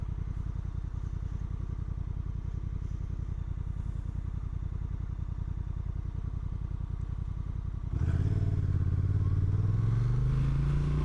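Honda NT1100 motorcycle from 2025 with a dual-clutch transmission, its engine droning steadily while riding, then a shift near the end where the tone changes and the revs climb louder, with no talking.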